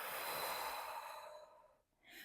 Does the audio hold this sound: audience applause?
no